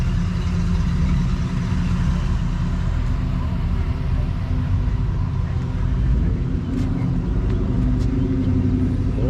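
A hot rod Chevrolet Nova at an outdoor car show rumbles at a low idle, a steady and fairly loud engine drone under general crowd noise, with faint voices in the background.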